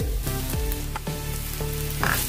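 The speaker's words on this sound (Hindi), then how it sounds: "प्याज को मैंने थोड़ा सा भून लिया है। अभी इसमें हम हरी मिर्च डाल देंगे।" Onions and green chillies sizzle and fry in a pan for vegetable noodles, giving a loud, continuous crackling hiss close by, with stirring sounds mixed in.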